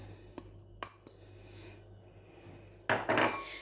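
Chopped prunes stirred into a home-cooked dish, a spoon scraping and knocking against the pot in a few soft, scattered clicks before a louder burst of mixing near the end, close by and with no talk.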